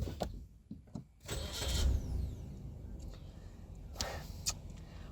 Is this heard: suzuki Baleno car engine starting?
yes